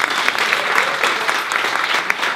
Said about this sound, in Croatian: Da vidimo sa pljeskom